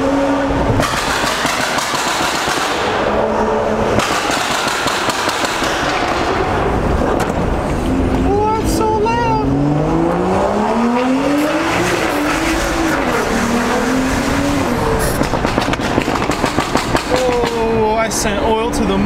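BMW F-series car doing anti-lag pulls and sliding, with a loud engine rising and falling through sweeping revs and tire squeal, plus talk over the noise throughout.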